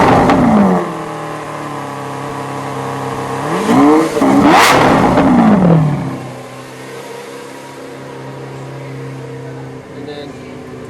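Exhaust of a 2017 Lamborghini Aventador S V12 in Strada mode, revved in a few rising and falling blips that swell loudly before settling back to a steady idle rumble.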